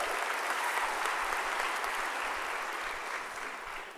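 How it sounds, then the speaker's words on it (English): An audience at a 2014 college commencement ceremony applauds, a dense steady patter of many hands clapping at once that holds for several seconds and then starts to fade. "join me in applauding the faculty who have gotten you where you are today, staff and administration, for that outstanding job."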